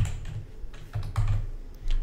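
Typing on a computer keyboard while editing an image: a short run of close key taps in uneven bursts, some louder clusters of presses, no talking.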